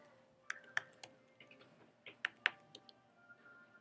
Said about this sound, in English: you will go ahead and type in your credentials here.